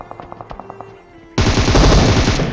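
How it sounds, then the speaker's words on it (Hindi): Gunfire in a mobile battle royale shooter: a run of quick, evenly spaced single shots, then a loud, sustained burst of rapid automatic fire up close, with no voices. "मैंने भी एकदम प्री फायर कर दिया, और पूरा ही प्री फायर था वो"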